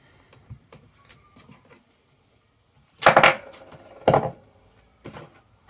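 An Electric Eel Wheel Nano spinning wheel being taken apart, giving a few sharp plastic clicks and clunks between quiet stretches, close and fairly loud.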